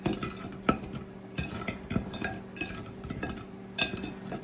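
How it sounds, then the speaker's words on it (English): Noodles being stirred and tossed to coat them in sauce, with soft scraping and clinking of a utensil against a pot or pan, in irregular bursts close by and at modest volume. "Just mix around, make sure everything is kind of nice and coated."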